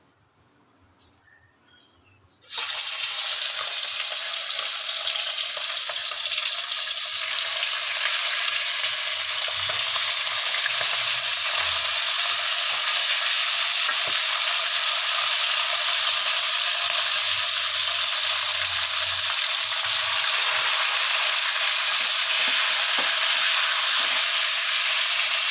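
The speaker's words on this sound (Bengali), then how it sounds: "এখানে আলুগুলো ভাজা ভাজা হয়ে এসছে" Potatoes frying in a pan for a home chicken fried rice meal, a loud steady sizzle that starts abruptly after a quiet moment and carries on continuously, with occasional soft stirring clatter underneath.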